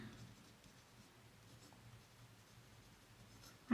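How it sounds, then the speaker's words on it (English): Fountain pen with a medium nib writing on paper, soft faint scratching strokes close by in a quiet room, ending with a brief louder knock. "This writes beautifully. And the nib is not too stiff."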